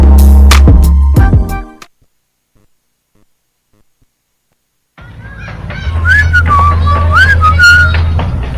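A person whistles a wavering, gliding tune in the second half after a silent gap, moderately loud over a low steady hum, preceded by a brief burst of other sound.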